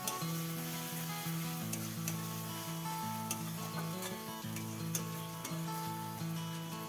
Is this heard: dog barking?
no